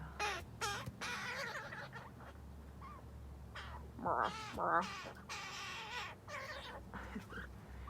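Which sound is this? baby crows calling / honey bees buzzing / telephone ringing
baby crows calling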